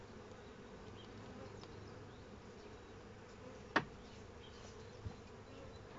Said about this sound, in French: Les premières butineuses qui rentrent commencent à faire connaissance avec la nouvelle trappe.